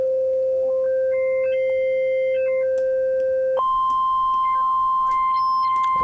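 Halogen FM synth tone: a steady pure beeping pitch with a ratio control sweeping in stepped added partials above it, then jumping to a higher held tone with more stepped sweeps, clean and alone.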